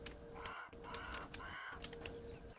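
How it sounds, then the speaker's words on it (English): A bird in the survival video game Grounded caws several times in short, harsh bursts. The calls are moderately near and sound over a faint steady background hum. "Also, it sounds like this fucking bird is still here."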